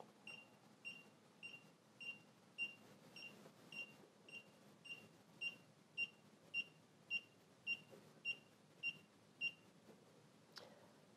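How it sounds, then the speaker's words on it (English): An Afidus time lapse camera emits a long series of short, high beeps at a steady pace during a firmware upgrade, about one per second, quiet and alone, ending with a faint click. "You will hear a series of beeps while the camera"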